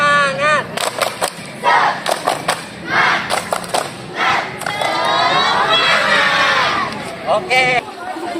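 A class of children chanting 'tepuk semangat' together with rhythmic clapping during a classroom ice-breaker, loud close shouts and claps in quick bursts building to a sustained cheer, followed by a few more claps.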